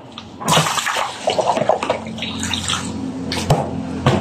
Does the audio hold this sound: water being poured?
yes